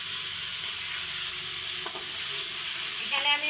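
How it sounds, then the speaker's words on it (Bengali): Ground spice paste of onion, garlic, ginger and nut being stir-fried for a Bengali roast sizzles steadily in a hot pan, a close continuous hiss with occasional scraping stirs near the end. "এখানে সব বাটা মশলা দিয়ে রোস্টের জন্য কষিয়ে নিচ্ছি"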